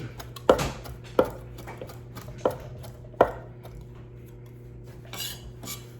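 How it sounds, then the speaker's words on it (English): A knife rough-chops Italian flat leaf parsley on a board, giving four sharp, distinct chops spaced about a second apart, followed by softer scraping and handling sounds over a low steady hum. "I'm just gonna rough chop it."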